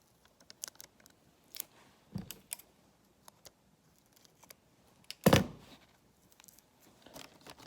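A small piece of tape being cut and handled, with scattered light snips, clicks and crinkles and one louder snip near the end, quiet and close.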